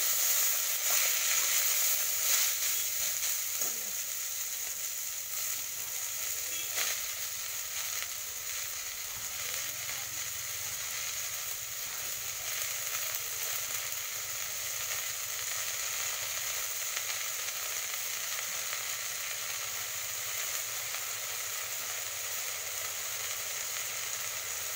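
Red amaranth leaves frying in a pan, a continuous even sizzle with soft crackling that holds steady and close throughout, a little louder at the very start.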